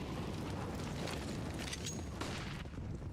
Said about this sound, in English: That was a decent nade.